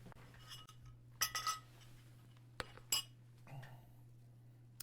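Cups and spoons clink faintly while tea is made, giving a handful of sharp, bright taps and rattles scattered over a quiet background with a low steady hum.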